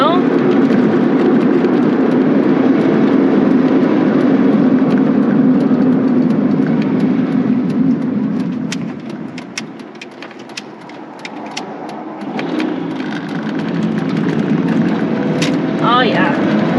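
A 1993 Honda Civic Si driving and making a U-turn, its engine humming steadily from inside the cabin, dipping as the driver shifts gears and then building again.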